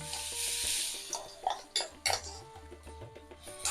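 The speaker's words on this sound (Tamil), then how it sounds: "எண்ணெயிலே நல்லா வதக்கிக்கலாம்." Ground chana dal paste stirs in hot oil in a pan along with mustard seeds, urad dal and curry leaves, giving close, quiet scraping and clinking spoon taps with a faint sizzle.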